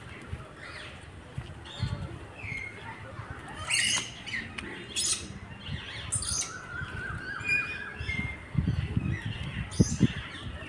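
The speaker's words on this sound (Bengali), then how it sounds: "এদিকেও পাখি রয়েছে।" Captive birds at Alipore Zoo in Kolkata give scattered squawks and chirps near and far, with an occasional whistled note, under faint voices and crowd noise.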